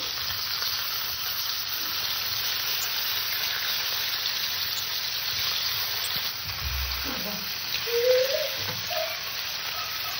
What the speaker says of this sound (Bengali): মাছটাকে আমি ভালো করে ভেজে নেব।